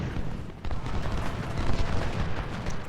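Musket volleys crackle and boom without a break in an Ultimate General: Civil War battle at Fort Blood, dense overlapping gunfire with distant rumbling from massed rifle fire. No voice is heard.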